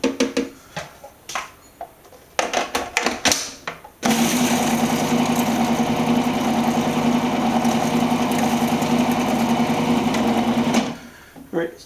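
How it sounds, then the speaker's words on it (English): A food processor whirs steadily for about seven seconds, chopping fresh herbs for a herb crust on a bone-in pork loin. Short bursts of clatter come before it and brief handling noise follows. "the food processor is just to sort of get the herbs to start, bleeding in here"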